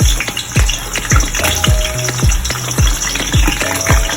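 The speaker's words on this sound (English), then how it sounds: "As you can see, we have here palm oil with our onions." Onions frying in palm oil with a steady loud sizzle, punctuated by repeated knocking and scraping of a spoon stirring in the pot, close by.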